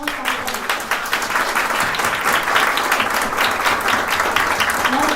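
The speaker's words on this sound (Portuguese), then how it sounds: "eu gostaria que vocês dessem palmas de palmas." An audience at a lecture on the new economy breaks into sustained applause, dense overlapping clapping that holds steady and loud throughout, with a faint voice briefly audible near the start.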